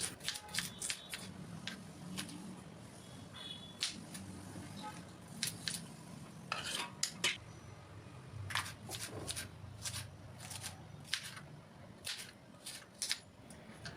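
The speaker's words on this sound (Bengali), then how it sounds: "তো প্রথমে ভেন্ডিগুলো কেটে নিই।" A knife slices through okra on a cutting board, with quick crisp chops in short bursts and gaps between, close and fairly quiet against faint room noise and a low background rumble.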